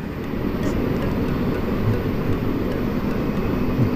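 A steady, loud rumbling roar from an MRT train passing along EDSA at Quezon Avenue by Eton Centris, heard continuously with city traffic blended in and no speech.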